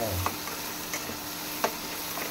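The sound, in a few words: onion being sautéed in a pan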